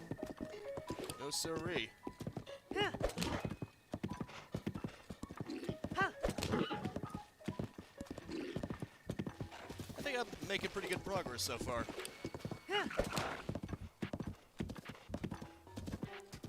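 A horse gallops in Zelda Breath of the Wild, with rapid rhythmic hoofbeats, snorts and a whinny, under someone talking almost continuously.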